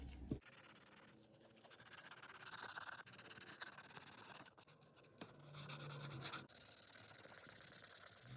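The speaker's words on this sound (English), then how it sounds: "Gonna get the body all wet sanded with 800 grit." Wet sanding a 1979 Mustang Cobra custom car body with 800 grit sandpaper, a steady rubbing and scratching in long strokes with brief pauses, faint and close.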